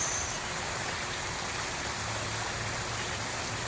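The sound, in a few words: water flowing in a park stream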